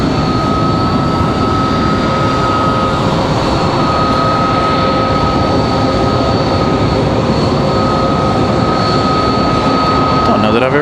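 Mitsubishi aircraft passing at Raleigh-Durham airport, a loud, constant engine roar with a high steady whine running through it, and a voice talking over the noise.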